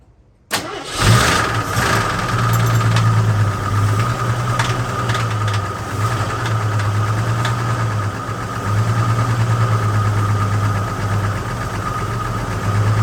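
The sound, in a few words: AMC Concord engine cranking and running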